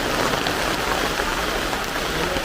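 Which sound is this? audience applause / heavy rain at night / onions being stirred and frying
heavy rain at night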